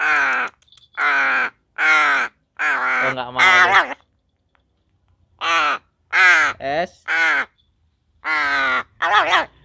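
A pet crow caws close by in a series of loud, harsh bursts, about a dozen calls grouped in two runs separated by a short pause, with a person speaking briefly.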